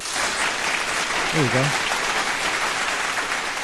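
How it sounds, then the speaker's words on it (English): A studio audience at a live sports talk show gives a round of applause, a steady broad wash of clapping that carries throughout, while someone speaks briefly over it. "Round of applause for the Lakers for starting 0-3"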